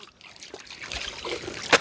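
Water is poured and trickles over an overheated dog at a hillside home in the Pahadi region, with light splashes and dribbles building to a brief louder splash at the end.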